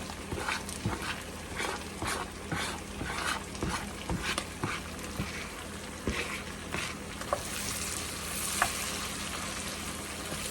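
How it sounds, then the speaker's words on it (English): Chopped soup vegetables cooking down in bacon grease, a steady close sizzle with rhythmic stirring scrapes and taps of a utensil against the pot, no voices. "we're going to use that bacon grease to cook our veggies down"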